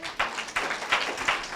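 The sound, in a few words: congregation applauding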